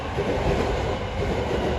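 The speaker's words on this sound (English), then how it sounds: "That's another train." A train rolls past during an evening rush hour in Fujisawa, Japan, a steady, loud rumble of wheels on rails filling the whole moment without a break.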